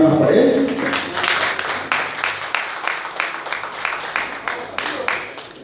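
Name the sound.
audience applause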